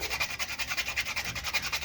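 Steady rhythmic rasping of sandpaper on a wooden Opinel No. 9 knife handle, quick back-and-forth strokes repeating evenly, close and moderately loud with no voices.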